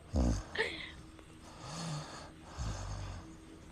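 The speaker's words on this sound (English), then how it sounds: "Is he snoring?" A man snores in a few rough, uneven breaths, a loud low snort followed by softer rasping inhalations, heard faintly over a phone or stream connection.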